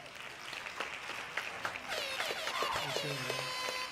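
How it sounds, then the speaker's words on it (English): Scattered hand claps in a podcast studio, a few sharp claps at first that thicken into a brief burst of clapping, with talk and background noise underneath. "Hand claps."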